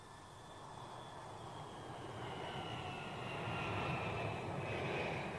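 A jet airliner cruising at altitude with normal engine operation, a steady broadband roar that swells slightly and then holds constant, with no voices.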